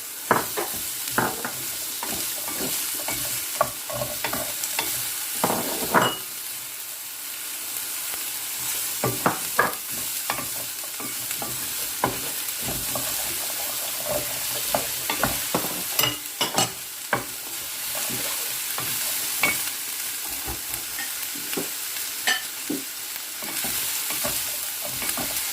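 Chicken and vegetables stir-fried over high heat in a pan, with a steady sizzle and frequent scraping, tossing clatters of the utensil against the metal throughout, close and fairly loud with no talking.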